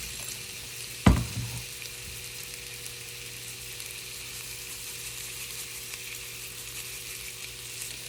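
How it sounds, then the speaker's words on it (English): Chopped onion seasoned with salt and pepper fries in a pan, giving a steady, even sizzle throughout, with a single sharp clatter near the start and no talking. "we're gonna cook this for about 5 to 7 minutes until the onion gets nice and soft"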